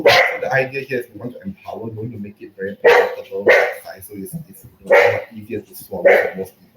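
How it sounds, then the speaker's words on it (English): A home dog barks in the background, loud sharp barks that break in repeatedly while a person keeps talking. "So that's my dog in the background."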